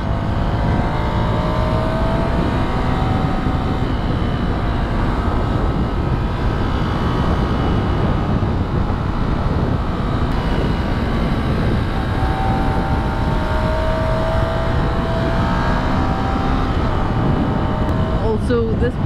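A Ducati Scrambler Sixty2 motorcycle being ridden, with a steady, loud engine drone that holds constant under heavy rushing wind noise throughout, as though heard from the rider's position.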